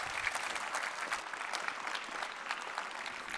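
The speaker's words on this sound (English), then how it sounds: "please give another round of applause" Audience applause following a talk at a conference session, a dense, steady wash of many hands clapping throughout, fairly distant and even in level with no pauses.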